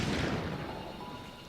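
An explosion in the Nintendo game Pikmin 3 opens with a burst of rumbling blast noise, then fades into a dull, lingering decay, alone and moderately quiet.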